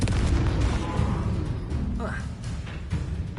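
Bombarda and Confringo spell explosions go off in Hogwarts Legacy as a dense run of booms and bursts over a low rumble, with a voice speaking over the blasts.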